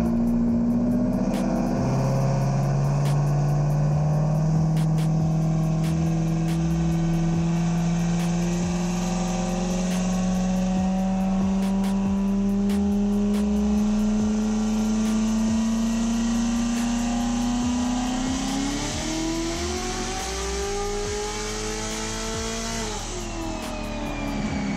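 A turbocharged Coyote V8 in a Ford Mustang S197 with a TH400 transmission swap roars through one long, loud dyno pull, its pitch climbing steadily over some twenty seconds before easing off at the end.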